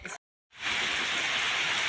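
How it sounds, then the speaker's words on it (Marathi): Heavy rain pours down in a dense, steady hiss that fills the air after a brief cut to silence, loud and continuous with no voices. "पाऊस बघा मित्रांनो, जोरदार पाऊस चालू आहे बघा."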